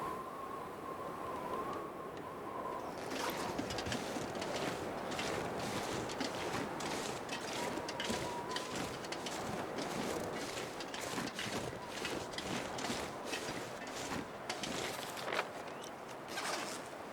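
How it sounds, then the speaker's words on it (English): Howling wind in the survival game The Long Dark, a steady roaring gust with crunching steps and rustling layered over it. "Boy, it's windy."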